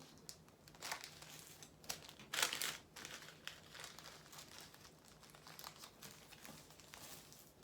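Paper dress pattern piece for a Marcel dress being folded back by hand, giving soft, repeated crinkling and crumpling rustles with a sharper crackle near the middle, fairly quiet and close, no talking.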